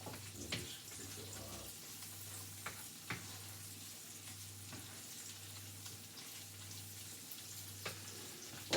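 Ham frying in a pan on high heat, a steady sizzling hiss with occasional sharp ticks from stirring, fairly close and even throughout, with no talk.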